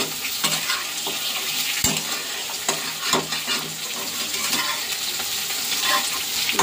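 Soybean chunks fry in oil in a poorly cast kadai with bay leaves, sizzling steadily while a spoon stirs and scrapes the pan with several clinks.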